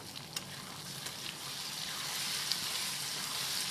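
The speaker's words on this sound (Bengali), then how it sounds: "এইভাবে পেঁয়াজ আর টমেটোটাকে ভালোভাবে ভেজে নিতে হবে" Onion and tomato frying in a pan for a Bengali-style chicken curry, a steady close sizzle that holds evenly with faint stirring clicks and no talk.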